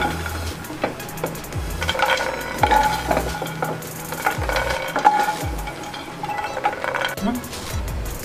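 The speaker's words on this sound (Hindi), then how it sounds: "मखाने हमारे भुन गए हैं, अब हम इनको निकाल लेंगे।" Roasted makhana (fox nuts) are stirred and scooped from a kadhai, giving repeated scraping and clinking of a spoon on metal over soft frying, with a voice talking in between.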